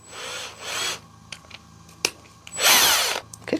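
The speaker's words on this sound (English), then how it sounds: "I'm going to take my drill again and just lightly" A loud power drill whirs in two short bursts, drilling through hot glue on a wooden wreath base, with light tapping and scraping in the quieter gap between.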